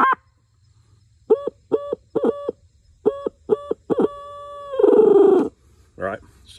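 An owl hooter plays a call in an eighth-note rhythm: seven short, clear hoots in quick pairs, then a longer wavering note and one last brief hoot, close and alone with no talking.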